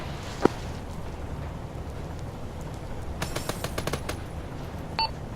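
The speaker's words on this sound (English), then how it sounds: "Nope, gunshot." Gunfire in a military video game: a single sharp shot early, then a rapid burst of crackling shots a few seconds later and one more brief report, all fairly distant over a steady background hiss.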